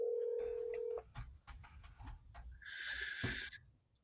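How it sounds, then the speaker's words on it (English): A telephone call is placed: a steady phone tone sounds for a second, then quiet handling noises, followed by a loud electronic ringing tone that stops abruptly. "let me call John Carmen."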